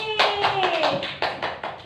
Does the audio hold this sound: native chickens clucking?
no